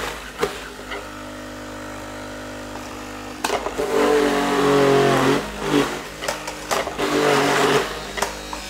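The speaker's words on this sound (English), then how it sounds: "you can fit a whole half an apple in the machine" Goodnature Hummingbird prototype juicer processing apples: a low motor hum for a few seconds, then loud, uneven grinding and crushing bursts as the produce is fed in, close up, with no talking.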